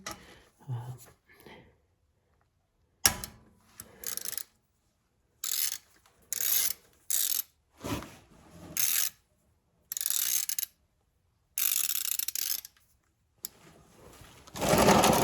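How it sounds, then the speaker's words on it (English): A hand ratchet with a Torx T40 bit works the oil drain plug above the rear axle of a 2017 Polaris Razor 900S, giving repeated bursts of loud close clicking separated by short pauses. "So to pull your oil plug, it's going to be a Torx T40."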